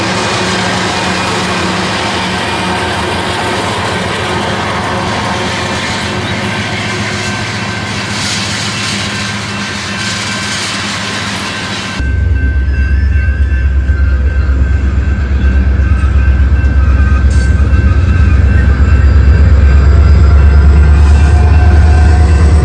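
A very heavy, slow freight train hauled by about ten locomotives, including two rear distributed-power units, rolls past with a loud continuous rumble and faint wheel squeal, swelling into a deeper, heavier roar partway through.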